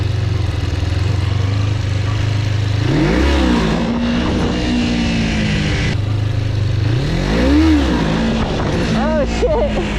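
A motorcycle engine revs and bogs repeatedly during a slow wheelie, rising pitch sweeps around three and eight seconds over a steady close idle drone, loud and continuous.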